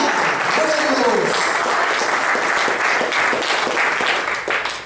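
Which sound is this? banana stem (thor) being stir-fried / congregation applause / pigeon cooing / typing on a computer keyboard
congregation applause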